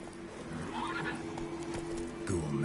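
The horse Roach neighs in The Witcher 3, a short whinny rising and falling amid hoofbeats and game ambience, with a voice speaking over it near the start.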